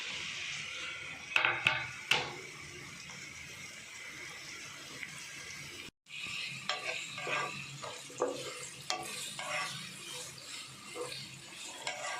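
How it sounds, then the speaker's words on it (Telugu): Onions frying in about three tablespoons of oil in a kadai, a soft sizzle broken by stirring scrapes and clanks of a spoon against the pan, with a brief pause midway before the stirring resumes. "ఆనియన్స్ బ్రౌన్ కలర్ వచ్చేంత వరకు ఫ్రై చేసుకోవాలి."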